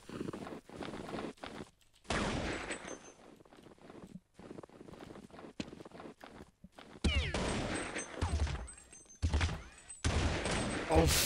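Counter-Strike 1.6 gunfire in rapid bursts and sprays, loud and dense, alternating with quieter gaps and footsteps, with someone speaking German over parts of it.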